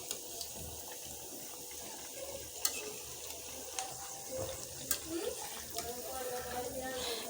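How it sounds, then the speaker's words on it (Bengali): Fritters of gram flour and Malabar spinach seeds fry gently in oil over medium heat, giving a faint, low sizzle with occasional soft clicks and taps of a utensil close by. "তো এগুলোকে আমি মিডিয়াম আঁচে আস্তে আস্তে ভেজে নেব।"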